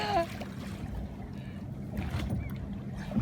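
A small boat being rowed near rocky skerries, with steady low water and hull noise running throughout and soft splashes from the oars at irregular intervals, recorded close up.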